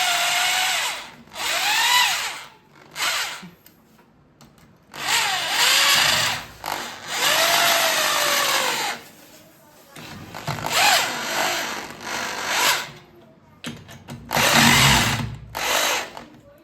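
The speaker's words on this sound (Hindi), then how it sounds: "तो आराम आराम से इसको टाइट कर लेना है ड्रिल मशीन से।" A handheld power drill tightens screws into a brick wall for a 43-inch LG TV mount, whirring in repeated bursts that ramp up and stop, with short quiet pauses and a voice speaking between runs.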